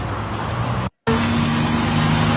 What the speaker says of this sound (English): So as soon as he drives away